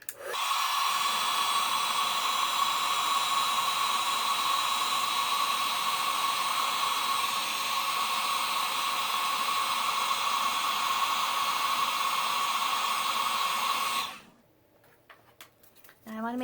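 A heat tool blows hot air over a card-making embellishment for a sports-themed card, a steady loud whirring hiss with a high whine lasting about fourteen seconds before cutting off.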